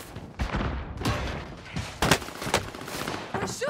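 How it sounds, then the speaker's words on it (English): Call of Duty: Modern Warfare gunfire rattles in close, loud bursts of rapid shots with short gaps between volleys. "They're shooting at me!"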